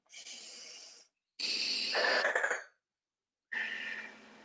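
Three deep, drawn breaths during a guided forgiveness session, each a long airy exhale with a wheezy, throaty edge, separated by short silences, close and fairly quiet.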